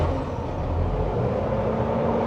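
A 1977 Toyota FJ40 Land Cruiser with an upgraded fuel-injected engine runs with a steady, loud low rumble close by, the engine turning over and settling into a continuous idle with no talk.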